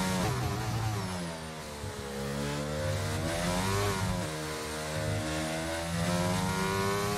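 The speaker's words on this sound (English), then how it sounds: "I short shifted already at the apex just before I'm accelerating like aggressively" A Formula 1 car in the F1 22 video game accelerates hard after short shifting, its engine note climbing through gears with a brief dip between shifts, loud and continuous.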